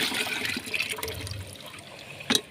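Leftover soaking water from lentils, starchy rice water and curdled milk are poured into a container, giving a splashing, gurgling liquid rush that tapers off, followed by a brief sharp knock at the end.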